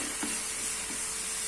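Chopped large tomato going into a pan of frying garlic for garlic chutney, with a steady close sizzle and a few soft stirring scrapes, no voices.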